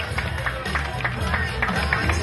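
Audience applause for contestants Nico and Fabio at a beauty pageant awards ceremony, Bella d'Italia and Mister Europa, steady crowd clapping that carries on throughout with a murmur of voices underneath.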